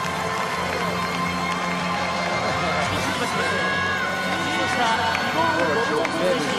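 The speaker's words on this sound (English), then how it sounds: "It's a standing ovation for Mark Coleman." A large arena crowd at a Pride Fighting Championships event gives fighter Mark Coleman a standing ovation, a dense, sustained roar of cheering and whoops that carries on throughout.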